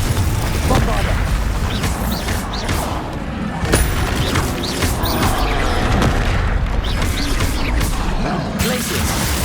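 Spell explosions and magical blasts in the video game Hogwarts Legacy, a dense, continuous barrage of booming impacts and crashes layered over game music and effects, with repeated loud hits throughout and a voice shouting spell names over them.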